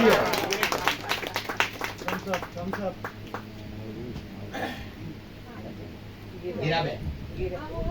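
At an event, an audience gives a short burst of rhythmic clapping that quickly dies away, leaving someone talking with some faint scattered sounds underneath.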